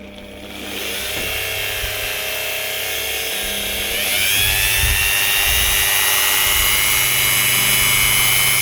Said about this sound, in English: I'm just going to grind out that little pin with the Dremel